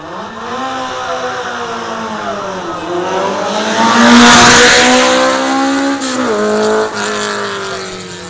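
A Metalex 1.06 race car, class 5, at the Dobšinský Kopec hill climb practice runs loudly past, engine revving through gear changes with rising and falling pitch and a brief tyre squeal as it nears.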